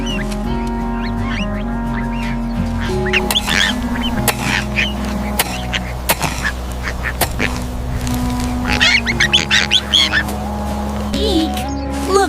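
Duck quacking in a children's cartoon, a run of quacks and chirps over a steady background tone with busy sound effects and voices around it.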